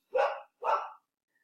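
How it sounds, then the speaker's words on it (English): A dog barks twice in quick succession, loud and close indoors, each bark sharp and full, then quiet follows. "Sorry, that's my dog."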